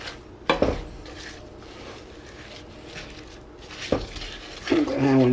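Pecans are mixed into thick cookie dough in a bowl, giving a few scattered close clanks and scrapes of a utensil against the bowl amid quiet room noise.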